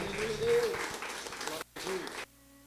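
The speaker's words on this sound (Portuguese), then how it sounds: "as palmas bem alegres para Jesus" Applause from a church congregation during a Portuguese-language evangelical service, a steady patter of clapping with a voice over it, breaking off briefly near the end before fading to quiet.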